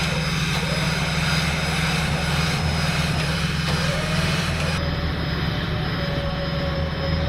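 A gas-engine truck stuck in the desert is put in reverse, its engine giving a loud, steady, close droning rumble throughout with little change in pitch.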